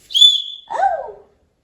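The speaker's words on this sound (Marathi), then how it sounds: "पप्पाला शिट्टी वाजून दाखव" A child blows a toy whistle at home, producing a short two-part call: a high steady tone that drops into a lower sliding note, close and clear, then silence.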